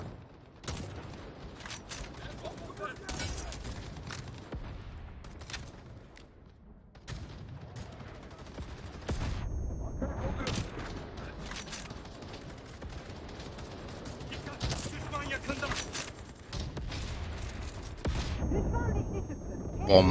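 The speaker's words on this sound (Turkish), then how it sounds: "bomba düştü dibimize." A bomb explodes close by amid bursts of gunfire in the Battle Teams 2 online shooter, with irregular booming blasts and crackling shots rising and falling while a player talks over the action.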